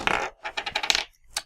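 Several dice clatter and tumble across a board in the Spookies board game, a quick burst of hard rattling clicks that settles, with a last small knock after a brief pause.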